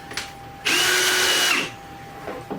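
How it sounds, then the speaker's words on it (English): A power drill pre-drills a mounting hole for a Ryobi storage cabinet in one close, loud burst of about a second, a whining motor with the bit biting in, framed by quieter handling clicks. "Now we got to pre-drill another one at the bottom somewhere or in the middle."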